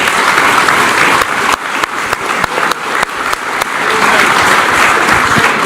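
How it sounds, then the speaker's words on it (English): Audience at a panel on the American military footprint in Europe and NATO applauds the panelists, loud dense clapping throughout with a few sharper individual claps standing out. "I want you to applaud the great panelists we had today."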